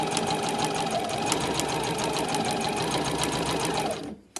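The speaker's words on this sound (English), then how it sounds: "And then I'm just going to sew the 2 layers together" Sewing machine stitching two layers of fabric for a scrunchie, running steadily and fast at close range for about four seconds, then stopping abruptly at the end with a brief click.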